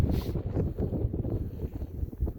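Steady wind gusts buffet a boat on cold, windy Oneida Lake, a dense low roar of wind noise against the microphone running continuously without pause.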